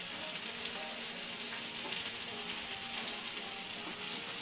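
Bread with melted butter frying on a hot grill, a steady broadband sizzle and crackle holding evenly at close range throughout, with no talk.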